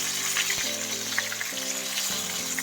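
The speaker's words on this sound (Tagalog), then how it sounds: "Ayan, ipa-fried lang natin yung ating isda." Fish frying in oil for a sweet and sour fish recipe gives a bright, bubbling sizzle with crisp popping spatters and low clinks, heard up close without talk.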